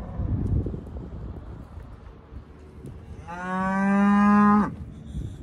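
Cattle on a ranch, a single long loud moo from a nearby cow rising out of wind and outdoor ambience, then fading back to quiet.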